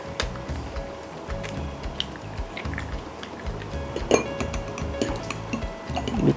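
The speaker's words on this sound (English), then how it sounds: "I'll break my egg." Clinks and taps of utensils against a bowl with a sharp crack partway through as an egg is broken, then quick stirring clatter as it is beaten, close and fairly quiet.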